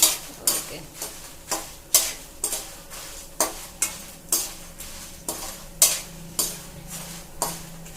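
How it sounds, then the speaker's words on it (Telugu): Dry red chillies and their seeds frying in oil in a pan, with a sizzle behind about a dozen sharp rhythmic scrapes and taps of a spoon against the pan, roughly every half second, close and loud. "వేగిపోయినాయి మనం వేసుకున్న మిరపకాయలు గింజలు అన్ని"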